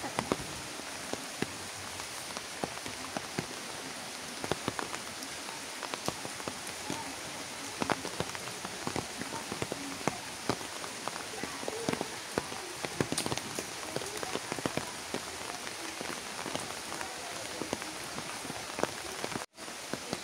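Rain falling on a rainy day at a village home, a steady patter of drops hitting nearby surfaces with scattered sharper splashes, continuous and moderately quiet throughout.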